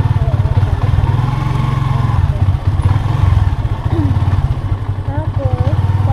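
A motorcycle engine chugs along with a steady, pulsing rumble while people talk over it.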